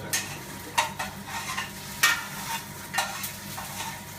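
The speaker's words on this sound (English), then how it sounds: "So keep stirring it." Bengali chicken curry is stirred in a pan over a lowered flame: a spoon scrapes in repeated, uneven strokes above a soft, continuous sizzle.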